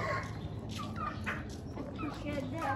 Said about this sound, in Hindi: टर्की आज लड़ेगा